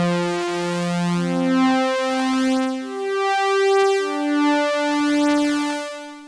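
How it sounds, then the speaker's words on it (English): Retro synth patch built in Serum, sustained tonal notes shifting pitch in a slow melodic sequence as a slowly opening filter cutoff brightens the tone over time; steady, loud and alone with no voices. "So we have a really slow filter cutoff curve that's opening up as the sound is progressing"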